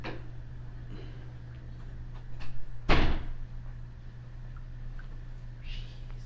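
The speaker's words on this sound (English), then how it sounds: "Just knocked everything over outside." Things knocked over outdoors, spilling someone's grill: a sudden loud clattering crash that bursts out and quickly fades, with a few smaller knocks just before it, all over a steady background hum.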